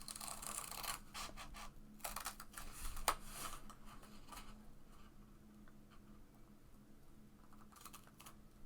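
Scissors snip fabric close to a stitching line while sewing a wristlet zipper pocket, giving quiet, close, irregular crisp cuts in short bursts, then a faint lull.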